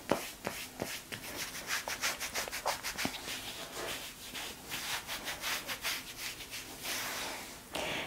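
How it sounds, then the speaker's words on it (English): Quiet, close rubbing as kinesiology tape is pressed onto a swollen knee, a soft rhythmic back-and-forth friction with a few light taps, and no one talking. "And then what we'll do is we'll go ahead and rub that all in."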